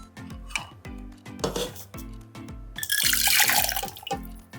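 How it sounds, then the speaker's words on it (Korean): A chicken stock cube is stirred into hot water, a spoon clinking repeatedly against a bowl in a steady rhythm with a brief splashing pour midway, close and clear with no talk. "그리고 치킨 스톡 큐브를 이렇게 뜨거운 물에 완전히 녹여주시면 됩니다."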